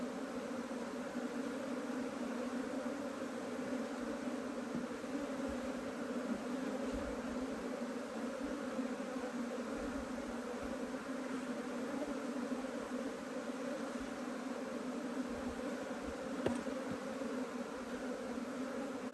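Dense, steady swarm of honeybees buzzing around an Africanized hive as frames are pulled, a continuous close drone with a faint click near the end.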